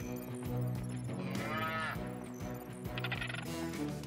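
A cartoon cow moos over a busy music score, long drawn-out bellowing calls with rich harmonics, fairly quiet, mixed with bright jingling effects.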